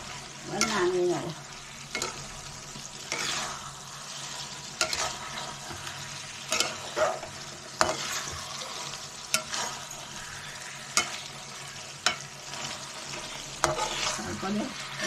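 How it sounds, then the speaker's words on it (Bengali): Prawn and banana flower curry being stirred in a frying pan, with repeated scraping strokes of the spoon over a steady low sizzle, no talking. "আচ্ছা, মিশিয়ে দিই ভালো করে।"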